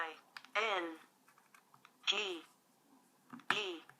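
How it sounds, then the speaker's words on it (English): Soft key clicks on a Franklin children's talking dictionary keyboard tap out a word in a few quiet presses, under and between a woman's speech nearby. "So, we're going to type in internet."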